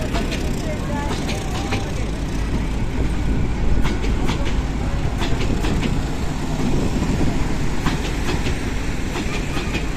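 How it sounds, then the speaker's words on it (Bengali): A train at Fatullah railway station in Bangladesh: a loud, continuous rumble of rolling wagons with rhythmic rail clatter close by, and voices faintly underneath. "ট্রেন ঘন্টায় একটা করে আসে ফতুল্লা ট্রেন স্টেশনে"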